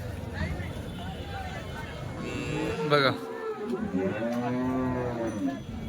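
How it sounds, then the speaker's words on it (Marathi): HF and Jersey cows at a crowded cattle market give several drawn-out moos over a busy background of voices and general market noise. "गायींचा पट्टा बघा तुम्ही."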